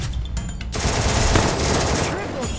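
Rapid gunfire in a video game, aimed at a dragon, rattles out loud and dense in a continuous burst after a short quieter lead-in.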